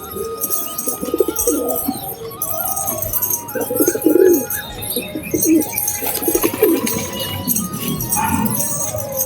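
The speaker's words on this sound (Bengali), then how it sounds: "দেশি গিরিবাজ লাইনের পায়রা।" Domestic Giribaj pigeons coo in soft repeated low phrases, near and moderately loud, with scattered chirps and bird calls in the background and no talk.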